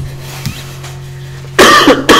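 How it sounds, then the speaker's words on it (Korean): Two loud, harsh coughs close up, following a quiet stretch with low background hum. "아, 요즘 같은 시기에 이렇게 기침하다니."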